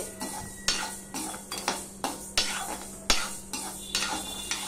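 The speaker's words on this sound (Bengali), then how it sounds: "গরম কড়াইতে আরেকটু নেড়ে নিচ্ছি" Spatula scraping and clinking in a hot wok as roasted moong dal is stirred, with the gas switched off; a steady series of sharp metallic scrapes at a brisk rhythm, close by with no talk.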